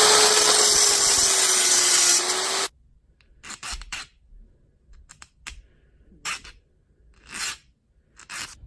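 A 3/16 inch brass rod being cut into pins: a continuous harsh cutting noise for a couple of seconds, then silence broken by scattered short scraping and clicking bursts of handling or filing.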